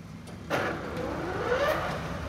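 A heavy-duty TOS horizontal bed milling machine from Czech Republic winding up in speed, a rising mechanical whine climbing in pitch over a steady hum, fairly close.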